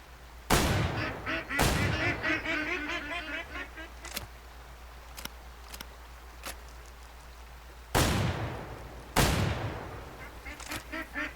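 Geese honking in the hunting video game Way of the Hunter, repeated loud nasal honks in a busy flock, mixed with two sharp gunshots early on and two more near the end.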